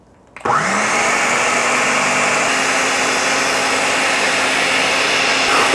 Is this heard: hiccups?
no